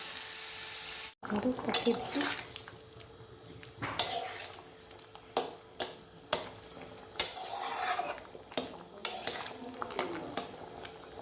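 Spices fry in oil in a pan with a steady sizzle, broken by several sharp metallic stirring scrapes and clinks. The sound is close and clear, with no voice.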